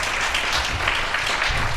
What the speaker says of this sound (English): just want to give everyone a round of applause for the great expertise today